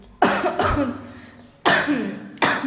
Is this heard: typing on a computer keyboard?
no